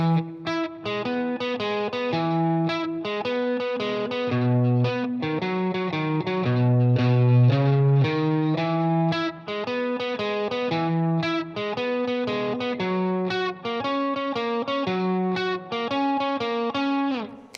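A distorted electric guitar plays a steady 12-bar blues chord pattern with a rhythmic shuffle, from a song, continuous and close, with no voices.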